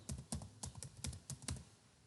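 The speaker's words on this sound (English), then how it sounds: "Here I will be typing Kathmandu." Someone types a short word on a computer keyboard, about eight crisp keystrokes in quick uneven succession. It is close and quiet, with no talk.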